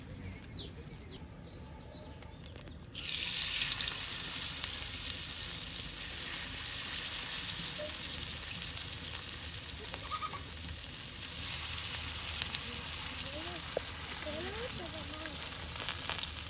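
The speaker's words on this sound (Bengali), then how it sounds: "এই যে এখন কিন্তু মাছ ভেজে নেওয়া হচ্ছে।" Fish fries in hot oil in a Bangladeshi village kitchen while iftar dishes are being made. A steady close sizzle starts abruptly after a quieter opening and runs on, with chickens clucking faintly in the background.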